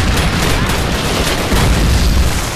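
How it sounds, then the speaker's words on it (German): Artillery barrage in Call of Duty: United Offensive during a street battle, dense loud booms and rumbling blasts overlapping continuously in a heavy, close roar of explosions. "Oh, Artillerie."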